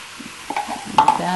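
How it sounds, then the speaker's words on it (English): A spoon stirs sour cream into a hamburger mixture for beef stroganoff in a hot pan, giving short close scraping and squelching strokes over a faint sizzle. "we just want to mix that well"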